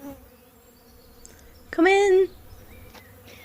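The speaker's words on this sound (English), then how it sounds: "There was an ever-present hum of bees to be heard in the towers." Bees hum in jungle towers as an audiobook sound effect, a soft buzzing bed under a brief spoken line, with a louder, sharper buzz swelling for about half a second.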